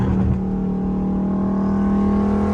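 A Dodge Scat Pack on a road at night accelerates hard past traffic, its engine note rising into a loud, sustained close roar.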